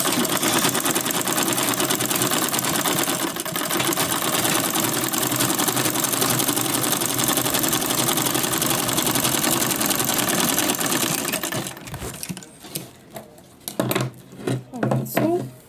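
A sewing machine top stitches an Asooke Zara cap in one long continuous whirring run, loud and close, then stops and gives way to scattered handling knocks and clicks.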